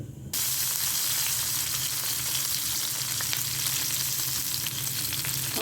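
Fish fries in hot oil in a pan, a steady, loud, close sizzle that starts abruptly and continues without a break, with no voices.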